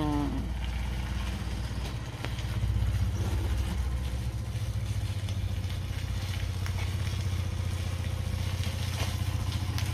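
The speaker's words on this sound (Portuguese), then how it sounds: "A nossa realidade é botar a moto aqui para dentro." A motorcycle engine runs steadily close by, a low throbbing rumble that holds at a constant idle with faint clatter throughout.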